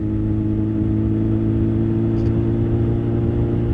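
A 1997 Suzuki Bandit 1200 motorcycle with a high-flow exhaust and jet kit idles steadily at close range, a constant deep throb with no voices.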